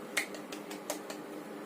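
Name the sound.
classroom clapping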